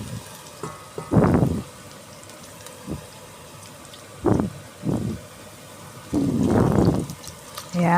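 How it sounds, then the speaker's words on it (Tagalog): Chopped pork asado filling for siopao being sautéed and stirred in a pan, with several short scraping, sizzling bursts and a longer stir near the end over a steady low hiss. "Kaya gisahin po nating maigi yan, haluin nating maigi."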